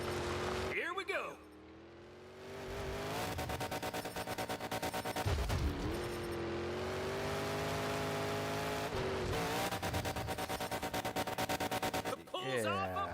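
A monster truck engine roars loud and close through a sky wheelie at a monster truck show, holding a sustained drone with a few sharp rev dips and surges.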